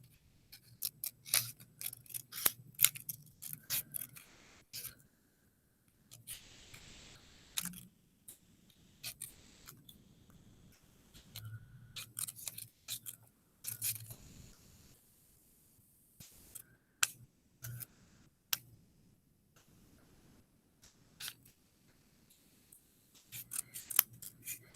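Scissors slowly cut a paper shape for a grade-school art lesson. Close, crisp snips come in short bursts separated by brief pauses while the paper is turned, with no talking.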